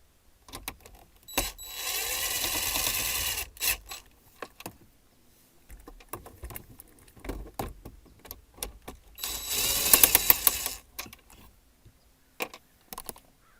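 Two 7mm bolts being worked out from below the factory radio in a Chevy Equinox dash, with close ratcheting clicks in two bursts and scattered small taps and rattles of tools and parts between them.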